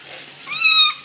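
A cat meows during a bath, giving one rising, fairly loud call that swells in the middle of the short stretch and then fades, with faint background noise throughout.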